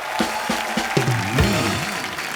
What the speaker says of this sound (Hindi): एक बार हमारे सारे चैंपियंस के लिए जोरदार तालियां।